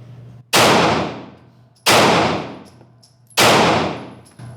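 Three loud gunshots crack at even intervals during laser-assisted pistol shooting practice, each sharp report followed by a long decaying echo, with no talking.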